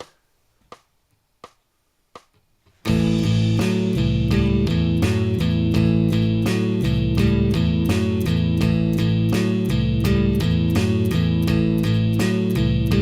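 Four sharp clicks at an even pace, then a full blues guitar backing track starts with a steady rhythmic strum.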